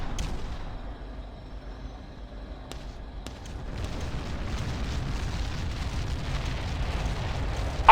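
Artillery bombardment in the real-time strategy game Ground Control, heard as a dense, continuous rumble of distant explosions that swells louder partway through, with a few sharp cracks early on and no talk.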